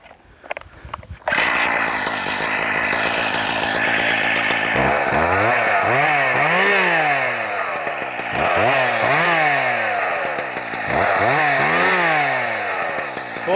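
A Husqvarna 268XP or 272XP two-stroke chainsaw with a dull, unsharpened chain starts and runs loud and close, its engine revving up and dropping back in repeated sweeping bursts with no talk over it.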